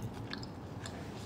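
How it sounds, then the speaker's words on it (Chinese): Close, quiet chewing of food, soft repeated crunchy bites over about a second, with no talk. "让他眼巴巴看着我嚼，然后我自己咽下去"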